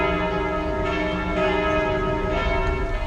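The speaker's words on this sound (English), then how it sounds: "Those are the bells of Notre Dame." The church bells of Notre Dame in Montreal ring out in a sustained, resonant peal, their overlapping tones humming steadily with a few fresh strikes swelling through the wash, heard alone at a moderate distance.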